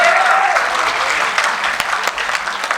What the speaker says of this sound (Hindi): ताली वाली बजाओ जरा हाथ खोल के।